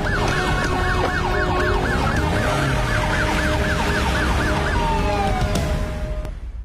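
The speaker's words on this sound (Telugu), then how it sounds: "సార్ కార్ లో సైరన్ పెట్టుకుని శక్తిమాన్లా వెళ్ళాడు." A car siren wails in a steady, rapid up-and-down cycle, loud and close, then cuts off abruptly near the end as the level drops.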